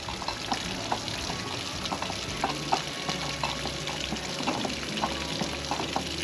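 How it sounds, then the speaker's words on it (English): Water runs steadily on a boat project, a soft continuous splashing and gurgling with small irregular drips and clicks, fairly quiet and without speech. "You turn the water on."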